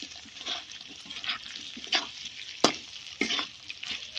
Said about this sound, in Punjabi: ਤੇ ਨਾਲ ਹੁਣ ਪਾ ਦਾਂਗੇ ਜੀ ਪਿਆਜ਼ ਹਰੀ ਮਿਰਚ ਇਹਨਾਂ ਨੂੰ ਭੁੰਨ ਲੈਣੇ ਆ